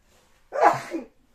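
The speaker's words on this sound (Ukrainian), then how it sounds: "чихнула прямо в камеру чуть не заплювала її" A woman sneezes once, loud and close to the microphone, a single sharp burst with no other sound around it.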